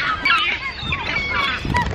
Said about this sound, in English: Wherever we go, ducks and pigeons and gulls follow.